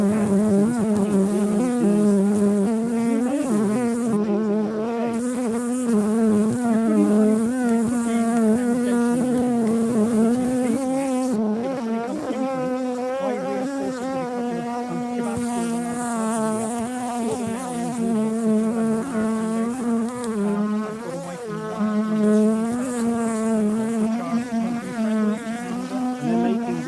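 Honey bees buzzing inside an open beehive with frames of newly drawn comb and stored food, a dense, steady, close swarm drone that holds loud and continuous throughout.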